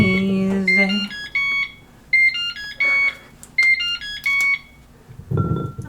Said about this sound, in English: My microwave has some really cute little beep on it.